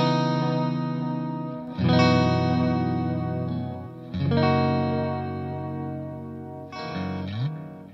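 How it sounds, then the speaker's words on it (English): Electric guitar chords played through an echo effect on an expensive pedalboard rig, three strummed chords that ring out with trailing repeats and a chorus-like shimmer, loud and alone. "Now about the same echo sound with the big boy rig."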